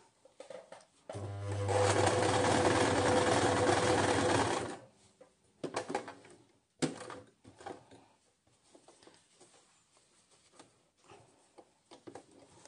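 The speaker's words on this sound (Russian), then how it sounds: "я вам покажу, как вот моя машинка шьет двойной иглой" A domestic sewing machine with a twin needle stitches a zigzag seam in one loud, fast mechanical run of about four seconds, followed by quieter handling clicks and rustles.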